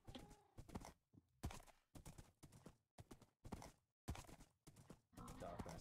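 Horse hooves trot in Minecraft, an uneven run of soft thudding clip-clops repeating close by, with brief pauses between bursts.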